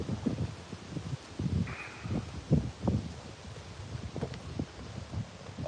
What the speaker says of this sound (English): Yeah, it's windy out.